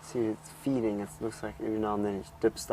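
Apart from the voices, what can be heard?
No everyday noise stands out behind the speech.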